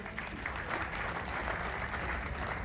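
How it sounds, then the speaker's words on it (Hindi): Audience at a tribute ceremony in Kanpur gives loud applause for an honoured guest, a dense continuous burst of clapping across the whole short stretch. "मैं चाहूंगा माननीय विजयलाल जी के लिए जोरदार तालियां हो जाए।"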